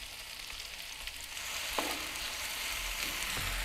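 Onions and sugar sizzle steadily in a pan as they soften and caramelize, a soft continuous hiss with an occasional faint stir or tap, close but quiet and without speech.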